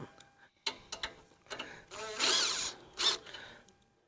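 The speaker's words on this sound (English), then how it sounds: "here on the opposite side, again, we're going to go ahead and remove the second 13mm bolt" Ratchet wrench loosening a 13mm bolt on a 25-inch California Trimmer Catalyst lawn dethatcher with a verticut cartridge: a few short clicking bursts and a couple of louder rasping ratchet runs, close and alone.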